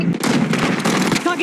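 Rapid gunfire in the mobile shooter Call of Duty Mobile, a loud burst of several close shots in quick succession within little more than a second.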